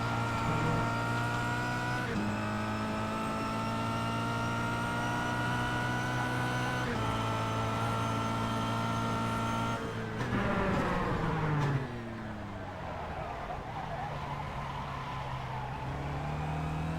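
A Kia Cup race car at Phillip Island circuit holds a loud, steady engine drone close by, with gear changes and a shift in pitch near the end as other cars' engines blend in.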